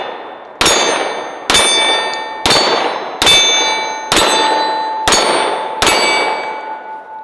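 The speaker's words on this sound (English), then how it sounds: "Let's start out with some steel targets." Underwood 180 grain jacketed hollow point rounds striking steel targets, seven loud ringing clangs at roughly even intervals, each sharp hit followed by a long metallic ring that fades into the next.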